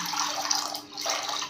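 Chilled water pouring into a container in a home kitchen, a close splashing stream that dips briefly midway and then resumes, with no voices.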